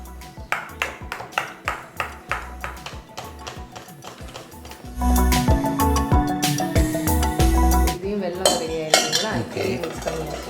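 A spoon or ladle scrapes and clinks against a metal pot while rice and coconut payasam with jaggery is mixed, in steady rhythmic strokes that grow louder and busier partway through, close by with no talk.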